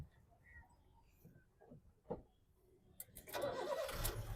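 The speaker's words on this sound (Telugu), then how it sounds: "సింగిల్ సెల్ఫ్లో బండి స్టార్ట్ అవుతుంది" A 2012 Honda Brio petrol car engine cranks briefly and catches on the first try, settling into a steady, fairly loud idle close by after some quiet handling noises.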